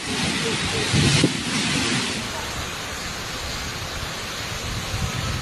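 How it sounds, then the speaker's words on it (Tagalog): Strong typhoon wind and heavy, unrelenting rain from Super Typhoon Pepito striking Catanduanes: a dense, steady roar that fills the scene throughout, with a slightly louder gust early on. "Malakas na hangin na sinabayan ng walang tigil na buhos ng ulan."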